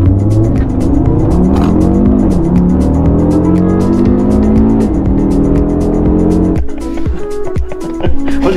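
A car's exhaust roars through loud revs, the engine note climbing and falling in repeated sweeps at close range before cutting to a rougher, choppier idle burble.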